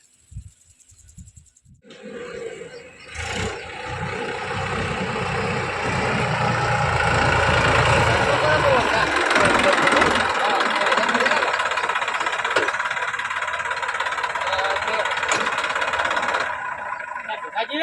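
A tractor engine chugs and idles loudly nearby, a rough low rumble running steadily, with people talking over it.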